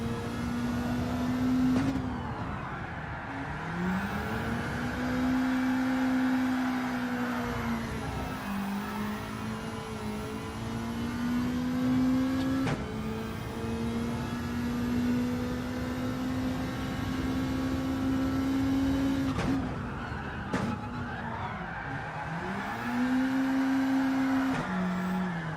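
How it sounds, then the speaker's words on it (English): Engine note of a car drifting in the video game Gran Turismo 7, a steady revving drone that sweeps up and down in pitch with throttle changes, continuous and fairly loud, with no talk. "let's get it drifting through here again"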